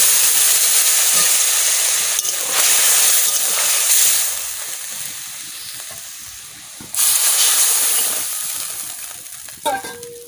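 Water splashes into a hot pan while cooking a fish and vegetable curry, loud hissing steam and sizzle rolling on continuously with surges as more water goes in, plus a faint clink near the end.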